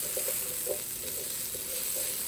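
Onions separated into individual pieces sizzle steadily in a pan for Italian meatball subs, a constant close frying hiss with a few soft crackles and no talk.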